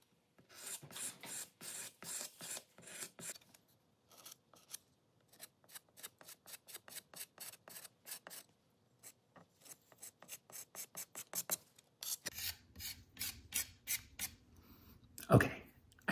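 A thin spring steel metal kidney scrapes the surface of a plaster mold for ceramics in quick, dry rasping strokes, close and quiet, in irregular runs of short scrapes with brief pauses.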